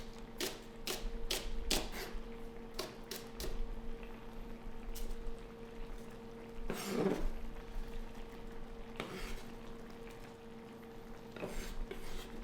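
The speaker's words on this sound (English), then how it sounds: "chop up the green onions and get these in there last" Knife chopping green onions on a cutting board in a home kitchen, a burst of quick close taps early on, then scattered single knocks, with steady kitchen background hum throughout.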